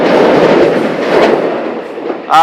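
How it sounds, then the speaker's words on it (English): An Amtrak train rumbles past near a beach, a loud steady roar of wheels and rail noise that slowly fades, with no talk over it. "There's the Amtrak"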